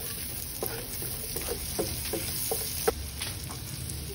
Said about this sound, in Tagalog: we're gonna saute the garlic